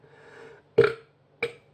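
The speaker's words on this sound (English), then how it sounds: "if I burp, sign of a good beer" A man burps twice after a swallow of Holston pils beer, one loud, full belch followed by a shorter second burp about half a second later. Brief murmuring comes before them, and then the room goes quiet.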